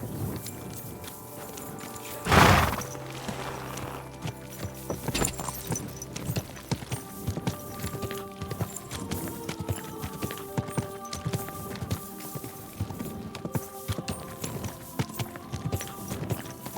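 Horse hooves in the video game Kingdom Come: Deliverance II clip-clop in a steady walking rhythm over a hard surface, with a loud whoosh early on and faint background sounds.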